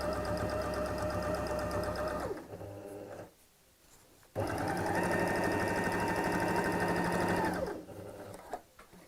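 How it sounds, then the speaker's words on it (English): Sewing machine stitching close to the edge of a fabric tote bag with pockets, a loud steady motor whir that stops briefly, then resumes and runs on before winding down. "I'm sewing quite close to the edge here as well"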